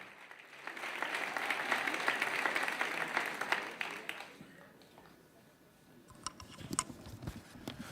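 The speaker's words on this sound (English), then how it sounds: "Please welcome him with a warm hand of applause." An audience at a live evening event, a Night to Honor Israel, gives warm applause to welcome a speaker. The clapping is fairly distant and swells for a few seconds, then thins into scattered claps and faint shuffling.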